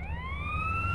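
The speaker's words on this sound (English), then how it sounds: "we got the ambulance pulling up" An ambulance siren pulls up in the video game GTA San Andreas. A steady rising wail holds clear and fairly close across the brief moment, over a low engine rumble.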